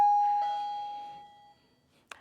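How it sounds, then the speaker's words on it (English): A remote-controlled doorbell chime rings once in a classroom, a clear sustained tone that slowly decays over about a second and a half, followed by a faint short click near the end. "the doorbell"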